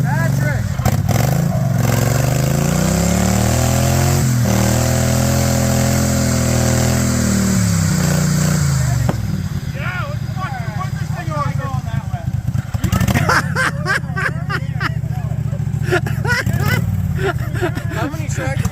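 Modified mud mower engine revving hard, rising and falling in pitch as the machine climbs and bounces over rocks, with clattering impacts and people shouting and talking around it outdoors.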